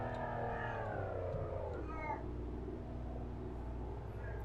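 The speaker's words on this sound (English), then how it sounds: "Cat's telling me it's about dinner time" A house cat meows for its dinner, several drawn-out, rising and falling cries close by that are fairly faint over a low steady hum, with no talking.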